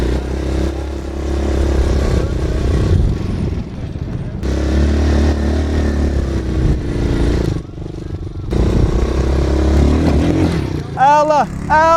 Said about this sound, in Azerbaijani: Kişinin oğlu drift eləyir.